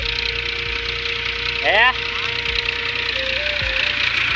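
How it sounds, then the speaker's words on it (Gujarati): A tractor engine runs steadily on a farm field, a close, even idling drone with a constant tone and a brief rise in pitch midway, while someone speaks briefly. "ટ્રેક્ટર હલાય રે"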